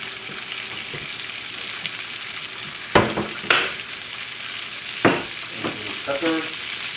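Peppers and zucchini with scallion frying in a pan, a steady sizzle broken by a few sharp stirring clatters and scrapes.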